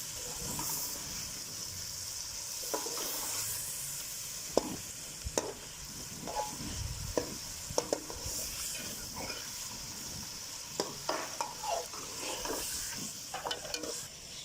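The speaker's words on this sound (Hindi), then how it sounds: "तकरीबन यहाँ पे गोश्त को 10 मिनट पकाएंगे।" Mutton bubbles and sizzles quietly in a pot, a soft continuous hiss broken by occasional clinks of a stirring spoon.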